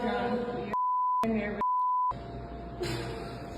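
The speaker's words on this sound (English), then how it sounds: "I wonder if Jamie's hearing it beeped, or is he hearing the actual uncensored version?" Censor bleeps cut into speech: two steady tones, each about half a second long, drop over a talking voice. A fainter tone lingers under the speech that follows.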